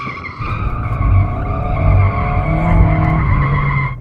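A Porsche Cayman GTS drifts with a loud, sustained tire squeal layered over a steady mid-mounted engine drone, the screech holding continuously throughout.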